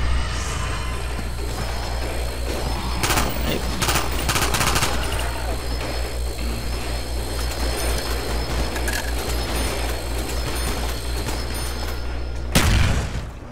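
Black Ops Zombies gameplay with bursts of gunfire and grenade blasts over a steady, dense game background, loud and continuous throughout, ending in a heavier boom near the close.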